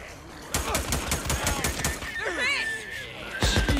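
Rapid bursts of gunfire from the Days Gone video game rattle out in a quick volley near the start, with voices talking over and between the shots and a few heavier blasts near the end.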